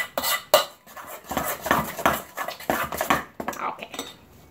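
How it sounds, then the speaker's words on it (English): A spoon stirring cupcake batter made from Duncan Hines mix in a bowl, close clinking and scraping strokes in an irregular rhythm, fairly loud, with no talk. "we're going to stir them up"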